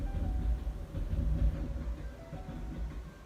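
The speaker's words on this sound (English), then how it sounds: "Sorry about the train." A train rumbles past at a distance, a steady low roar with faint rhythmic clatter of wheels, continuous throughout with no talking.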